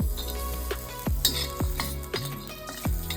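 Grated coconut roasting in a pan for a sev bhaji masala, repeated spatula strokes scraping and tapping against the metal every half second or so over a soft sizzle, close and alone.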